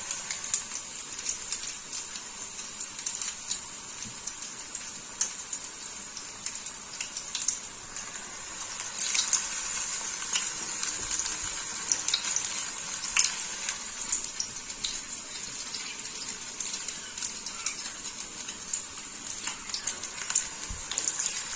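Small topse fish frying in a pan, a continuous bright crackling sizzle with scattered pops, steady and close throughout.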